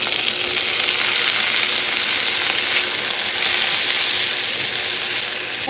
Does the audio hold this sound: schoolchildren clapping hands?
no